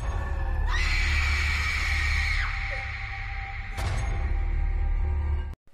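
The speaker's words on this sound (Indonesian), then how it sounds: "setelah Adinda mendengar jeritan wanita itu lagi" A woman's drawn-out, high scream in a horror film set in a haunted hospital, loud and close, rising sharply and holding for about two seconds, over a low rumbling score, followed by a sharp hit.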